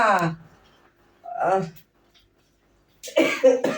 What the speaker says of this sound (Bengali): কাশিটা বেড়েছে আমার